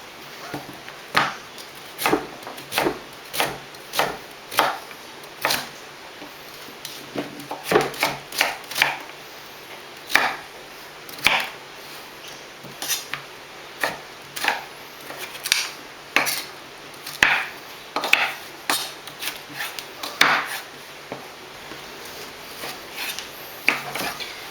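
Knife chopping peeled sweet potato into small blocks on a board, a steady run of sharp, close, fairly loud taps with brief pauses between bursts, no voices.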